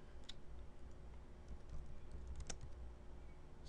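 Soft, quick keystrokes on a computer keyboard while entering router configuration commands, a steady patter of light clicks with one sharper tap near the end, heard alone and fairly quiet.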